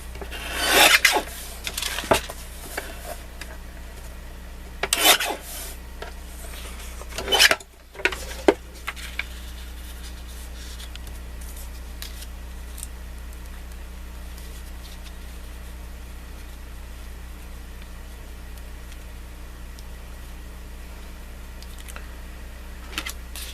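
Paper edger scissors cutting through card, making a few sharp rasping snips in the first eight seconds, close and fairly loud, then only faint quiet handling and room hum.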